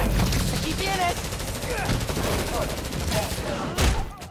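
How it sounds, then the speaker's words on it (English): Rapid bursts of video game gunfire aimed at a hologram in Spider-Man Miles Morales, dense and continuous with a heavier blast near the end, mixed with game voices and effects. "No, buddy, don't be shooting at my hologram."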